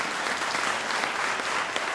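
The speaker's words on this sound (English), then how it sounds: "another round of applause" Audience applause at a school music award ceremony, steady dense clapping filling the room throughout, with no talk over it.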